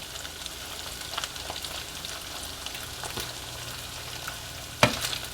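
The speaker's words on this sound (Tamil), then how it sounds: "இன்னொரு சைடு எல்லாத்தையும் நல்லா திருப்பி விட்டுக்கலாம்." Pieces of Chicken 65 fry in oil and are flipped over in the pan, a quiet, steady sizzle with small crackles and one sharp clink of utensil on metal near the end.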